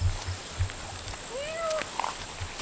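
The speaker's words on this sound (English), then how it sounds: "Meow, see if Charlie will come." A cat meows once in a garden, a clear rising-then-falling call that is moderately close and stands out over soft background noise, with a few brief knocks around it and no talk.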